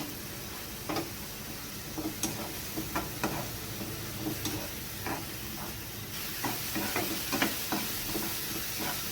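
Ginger garlic paste fries with onions in hot oil, a low sizzle under a series of separate scraping knocks as a spoon stirs the pan, close and fairly quiet.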